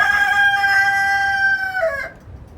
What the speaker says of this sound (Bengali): ব্রাহ্মা ভেরিয়েন্টের মুরগিগুলো দেখেন